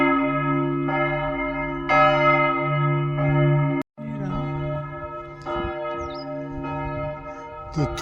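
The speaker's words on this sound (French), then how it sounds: "Juste quand les cloches sonnent." Several church bells in Romania's Maramureș ring together in a steady, sustained peal, layered tolls repeating loudly with a brief break midway, then resuming with a faint voice murmuring beneath.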